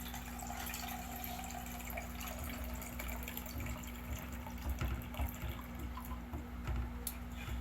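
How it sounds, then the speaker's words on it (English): Water pours into a measuring cup, a faint, steady trickle and splash running continuously under a low background hum, with no voices. "pour the water into a measuring cup until it reaches to 1 cup of water"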